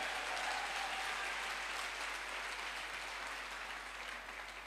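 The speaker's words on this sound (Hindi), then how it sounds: "सर के लिए एक जोरदार तालियां जरूर चाहता हूं।" Dense, steady applause from a large crowd continues throughout and fades slightly toward the end.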